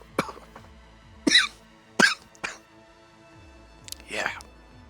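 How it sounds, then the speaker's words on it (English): Someone coughing after smoking weed, several short harsh coughs in separate bursts, close and fairly quiet, with a low drone underneath. "Those are the good coughs."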